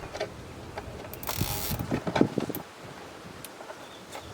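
Clicking, ratcheting mechanical sounds from fitting and tightening an ambient temperature sensor into its grooved mount on a BMW, a run of small close clicks and rattles in the middle with quieter handling before and after.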